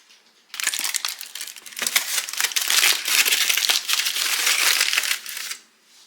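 Butterfinger fudge made with chopped Butterfinger candy bars being cut into small squares, a dense crunching and crackling of the candy pieces under the knife lasting several seconds, close and steady, with no talking.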